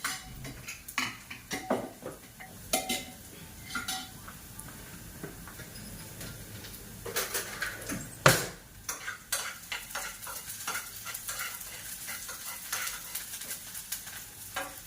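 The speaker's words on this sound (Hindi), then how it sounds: "तो चला दो, अच्छे से मिक्स हो जाएगी" A spoon stirs and scrapes inside a cooking pot of lentils, with soft repeated clinks and a faint sizzle underneath, close by and without talk.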